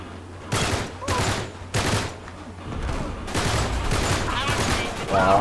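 Gunfire in Uncharted 3 multiplayer comes in a rapid series of loud cracking shots, with several sharp bursts early on and then denser, overlapping fire, and faint voices beneath it.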